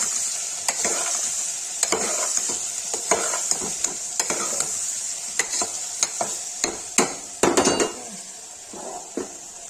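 Turnip pieces with turmeric and red chilli being stirred in a hot pan for a Kashmiri dish, with a steady sizzle under a run of sharp spoon scrapes and clinks against the pan.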